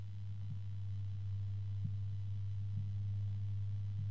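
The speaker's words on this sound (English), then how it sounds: "I have twice now heard what seems to be a harmonic resonance" A steady low hum drones throughout, a constant tonal resonance with faint brief clicks, like a computer fan's harmonic whine, from an Akasa Silent Color AK-195-BL 139mm 3-pin fan.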